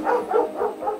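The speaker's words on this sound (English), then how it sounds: "dogs are here to help, of course, because they smell duck." A dog barks four times in a quick, even series, fairly close and moderately loud, with no other sounds around it.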